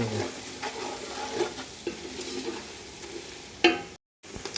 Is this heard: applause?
no